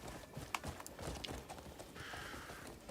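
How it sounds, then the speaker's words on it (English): Hooves clip-clop as a horse walks in a video game, the steps soft and irregular against steady background noise, with a few brighter clicks and a faint tonal sound near the end. "Horse, why are we walking sideways?"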